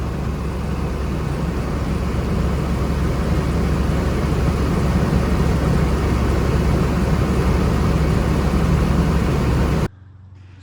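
A 1999 Chevy Astro van engine idling after being low on coolant, a steady loud low rumble droning without change for about ten seconds before cutting off abruptly, with no talking.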